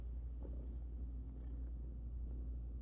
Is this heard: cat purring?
yes